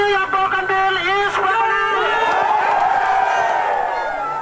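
Outdoor crowd on Bougainville cheers and shouts during a UN signing and handshake, loud, sustained and jubilant, with whoops and voices rising and overlapping throughout.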